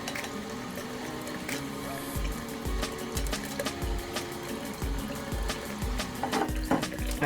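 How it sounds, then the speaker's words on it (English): Running water splashes as a face is rinsed at a sink, with irregular wet splashes and patting over a steady trickling flow, close and fairly quiet. "I'm just going to rinse my face and then pat it dry"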